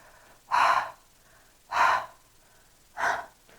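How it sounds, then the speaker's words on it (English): Three heavy, audible mouth breaths from someone who is overheated, each a distinct breathy gasp spaced roughly a second apart, close and clear against a quiet background. "the more I see people mouth breathing because they're hot"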